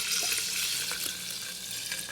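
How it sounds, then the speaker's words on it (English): Water pours steadily into a glass French press, a continuous bright splashing rush at close range that holds even for about two seconds without any talking. "Add the water."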